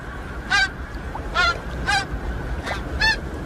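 Migrating geese honk as they fly in formation, five separate nasal calls spaced about half a second apart, fairly close and loud over a steady outdoor hiss.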